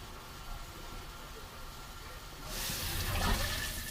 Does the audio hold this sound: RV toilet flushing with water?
yes